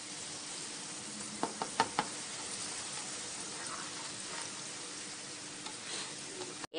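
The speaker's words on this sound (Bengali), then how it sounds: "দিয়ে 3 থেকে 4 মিনিট নেড়ে চেড়ে কষিয়ে নেব গ্যাসের ফ্লেম লো করে" Potatoes sizzle and fry in a wok over a low gas flame for dum aloo, with a steady hiss underneath and several close knocks and scrapes of a spoon stirring against the pan.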